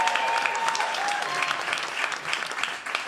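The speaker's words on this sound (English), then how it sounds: "Let's give a round of applause." Audience at a cabaret performance of songs applauding, a dense, lively patter of many hands at close range with a faint tone in the background and no talking.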